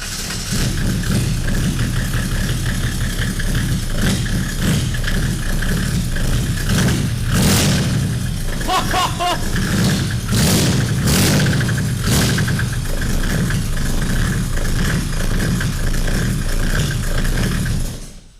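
A Peugeot 505 fitted with a 700 hp diesel engine starts up, then roars loudly and steadily up close, with repeated revving surges over a continuous heavy drone.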